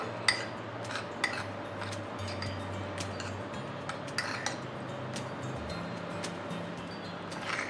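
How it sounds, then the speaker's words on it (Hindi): A spoon clinks against a bowl while stirring crumbled paneer stuffing with lemon juice and salt, light scattered taps and scrapes at close range over a low steady background hum. "मिला लेते हैं सभी इंग्रेडिएंट्स को"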